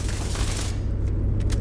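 SMG gunfire in Tom Clancy's The Division 2: a dense burst of rapid shots up front, then scattered sharper cracks and booms, loud and close.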